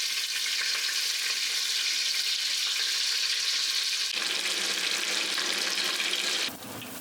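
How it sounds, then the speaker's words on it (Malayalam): Onions and curry leaves sauté in oil in a clay pot, giving a loud, steady, close sizzle and crackle that runs without pause and shifts slightly in tone partway through. "ചട്ടിക്കകത്ത് അല്പം എണ്ണയൊഴിച്ച് കരിയാപ്പല ഇട്ടുകൊണ്ട് സവാള മൂപ്പിച്ചെടുക്കാം"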